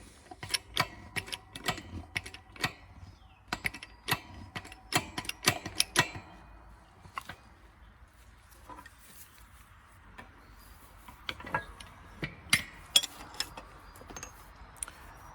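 Deck spindle bearing from a John Deere 50-inch mower deck being pressed out with a long socket, heard as irregular sharp metallic taps and knocks in clusters, close and fairly quiet, with pauses between.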